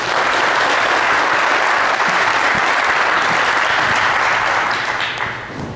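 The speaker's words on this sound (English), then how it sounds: "So a big round of applause for Lina." Conference audience applauding a speaker at a security event, a loud, dense wash of many hands clapping that holds steady, then thins and fades near the end.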